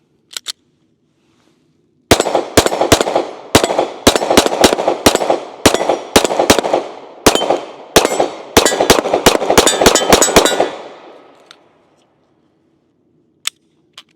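A pistol fitted with an Olight S optic fires a long rapid string of sharp, loud gunshots outdoors, evenly spaced over several seconds, with a couple of isolated shots before and after.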